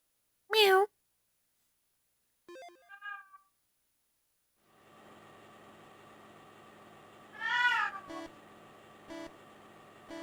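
A house cat meows several times, each meow short and fairly close, with quiet gaps between and a steady electronic hum from a game console in the background.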